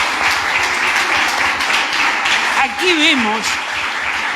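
A church congregation at a Thursday worship meeting applauds in steady, dense clapping throughout, with a voice speaking over the applause partway through.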